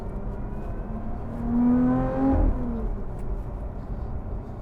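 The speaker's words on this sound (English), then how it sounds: "One thing that is really irking me at the minute is that exhaust." Lotus Evora GT430 Sport engine and exhaust rising in pitch as the car accelerates on Pilot Sport Cup 2 tyres, a close, steady drone that swells briefly mid-clip then eases back to a cruising hum.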